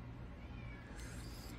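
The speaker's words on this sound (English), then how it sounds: "I have a cat crying at my back door" A cat crying at a back door, heard faintly through a quiet indoor room with a low background hum; the meows are soft and muffled, with no talking.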